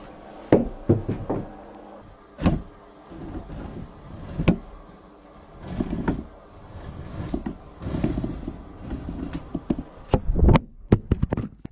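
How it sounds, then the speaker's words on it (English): A camera tripod is knocked over and falls to the floor, heard as a series of loud, sharp knocks and clattering impacts spread out over several seconds, with bursts of rumbling movement between them. "And then the whole tripod falls over."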